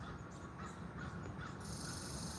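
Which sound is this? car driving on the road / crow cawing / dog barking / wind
crow cawing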